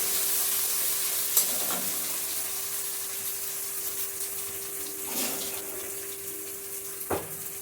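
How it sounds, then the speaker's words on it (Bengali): Spice paste of ginger, green chilli, cumin and coriander powder frying in a pan, a steady close sizzle with a few sharp stirring scrapes over a faint running-water hiss. "এখন মশলাটা কিছু ভাজা হয়ে গেছে"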